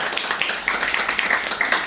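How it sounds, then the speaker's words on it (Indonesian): Applause from the audience at a junior high school poetry reading competition at UPH College in Tangerang, brief and steady, with dense clapping that sounds close. "tepuk tangan dulu teman-teman"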